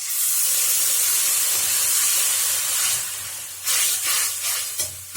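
Dissolved tamarind water poured into a hot pan for ginger pickle, setting off a loud, steady steam hiss that fades and flares again in short bursts toward the end.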